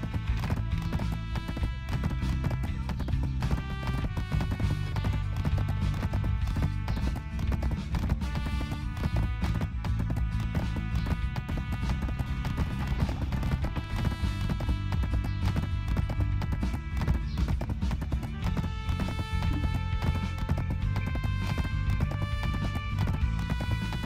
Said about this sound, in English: Riding a horse in town.